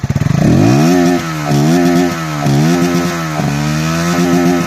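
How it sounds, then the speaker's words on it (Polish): A Voge 125R motorcycle engine revs repeatedly, close and loud, each rise in pitch followed by a drop back, with a buzzy single-cylinder tone and no talk. "nie będziesz narzekał na dźwięk silnika. Sami posłuchajcie, jak brzmi Watch 125R."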